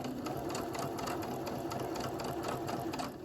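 A sewing machine back-stitches a fabric face mask, its needle running at a steady rapid rhythm close up and loud throughout, with no talking.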